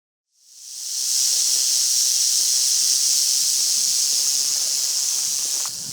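A Nevada snake hisses in one loud, steady, unbroken rush that rises quickly and holds close by for several seconds, outdoors on open prairie.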